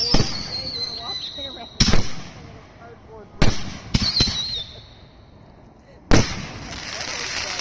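Loud bursts from an Independence Day fireworks finale, with two girandolas at once, boom every second or two, each followed by whistling and crackling that trails off, with faint voices in between.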